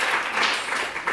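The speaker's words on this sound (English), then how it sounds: "So a round of applause" Brief burst of dense audience clapping, moderately loud and steady, heard for about a second with no voices over it.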